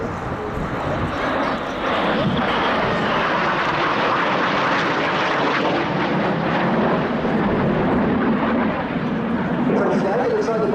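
BAE Hawk jets of the Saudi Hawks display team flying in formation, a steady loud roar of jet engines sustained throughout, with faint talk under it.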